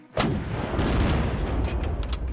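A missile launched from a vehicle in the Unturned video game: a sharp, loud blast at launch, then a sustained roaring rush that carries on steadily to the end.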